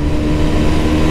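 Hero Xtreme 160R Stealth Edition motorcycle engine pulling hard in third gear, a steady close, loud mid-pitched drone with no break over a second.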